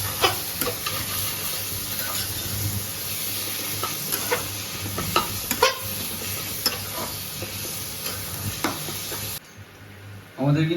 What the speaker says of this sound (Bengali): ডালটাকে ভালো করে ভেজে নেবে।